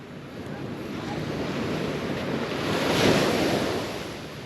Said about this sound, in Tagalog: malakas na alon